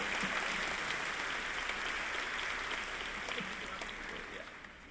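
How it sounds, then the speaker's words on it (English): An audience at a faculty convocation applauds Stuart Knox, a faint, steady wash of clapping from a hall that tapers off slightly toward the end. "Ladies and gentlemen, give Stuart Knox a round of applause"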